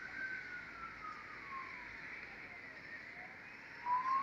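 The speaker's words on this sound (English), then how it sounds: "There's a police car going past." A police car siren wails as it passes by, fairly distant and steady, its pitch sliding downward as it moves away, with no talk over it.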